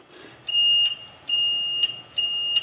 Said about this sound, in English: this is your alarm for your bale size